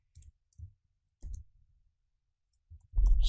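Scattered keystrokes on a computer keyboard, a few soft isolated clicks followed by a louder burst of quick typing at the end, close and otherwise quiet.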